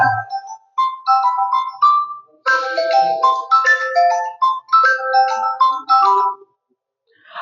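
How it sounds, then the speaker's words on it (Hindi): A phone ringtone plays as a bright, repeating electronic melody of short tonal notes, loud and close, looping for several seconds before cutting off into silence. "चूंकि बार बार मुझे फोन आ रहा है, इस फोन को काटने का समय आ गया है"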